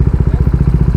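A motorbike engine idles close by with a steady, throbbing chug of regular low pulses as the bike is brought to a stop for parking on a street in Lebanon.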